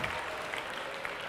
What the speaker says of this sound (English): I also wanted to ask for a round of applause for my birthday